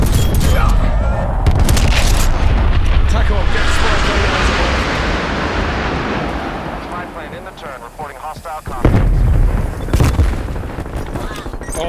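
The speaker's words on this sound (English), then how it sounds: "Bombing gas mine." A gas mine detonates in Call of Duty Black Ops Cold War, a loud, dense rumbling boom that swells and lingers, followed by further sharp bangs and a voice in the background.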